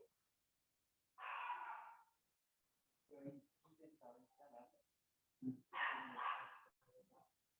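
Two loud, harsh bursts of a small female dog barking, close by, with talking in between them.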